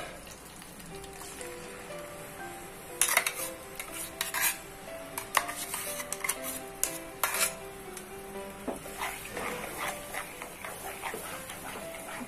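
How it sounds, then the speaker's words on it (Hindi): Curry sautéing in hot ghee in a kadai gives a soft continuous sizzle, broken by repeated clinks and scrapes of a spoon stirring against the metal pan, close and moderately loud. "अच्छे से मिक्स करके इसे सॉटे करेंगे"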